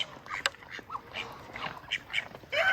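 Ducks quack in short, scattered calls nearby, several birds overlapping over a light outdoor background.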